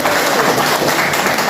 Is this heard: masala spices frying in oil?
no